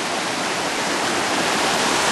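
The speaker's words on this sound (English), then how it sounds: "it's a nice little brook here" A small brook flows in a constant, loud rushing hiss, close by and unbroken for the whole stretch, with no voices.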